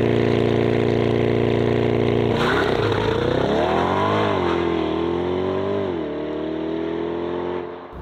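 A Chevrolet Corvette C8 3LT Z51 launches from a steady engine drone into a hard 0-100 km/h run, its revs climbing and dropping through quick gear shifts before fading out.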